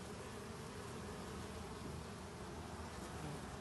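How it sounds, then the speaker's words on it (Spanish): Bees buzz around an active beehive, a dense continuous hum of many insects close by, steady and unbroken with no voices. "Pueden ver la actividad de la colmena,"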